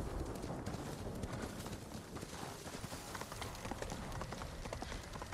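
Horse galloping across terrain in the video game Ghost of Tsushima, a rapid, steady drumming of hooves that stays loud and close throughout without pause.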